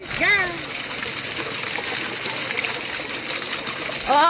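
Water rushes steadily at a traditional water mill for grinding maize, a broad splashing flow with brief voices at the start and end.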